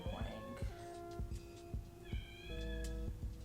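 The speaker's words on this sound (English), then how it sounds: "I got a cat" A pet cat meows repeatedly indoors, several distinct harmonic meows in an uneven rhythm, fairly close and clear, with no talk over them.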